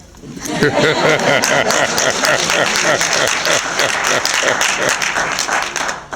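Audience applause for Lieutenant Colonel Harry Stewart of the Tuskegee Airmen, a dense, sustained round of clapping from a crowd with some chatter mixed in, loud and steady throughout.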